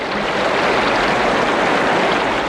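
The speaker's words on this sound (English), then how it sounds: "They just put a mic up to a faucet. And they're like, yep, that's water." Steady, dense rush of running water from a faucet, used as a whitewater rafting effect in a movie, loud and unbroken with no voices.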